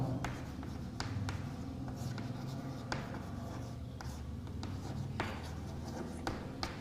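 Pen writing out a full name by hand, steady scratchy strokes with small taps and pauses between words, close and fairly quiet over a low background hum.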